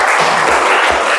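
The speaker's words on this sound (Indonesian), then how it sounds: "Tepuk tangan" A classroom of students clapping together during a lesson, a loud, close burst of brief continuous applause.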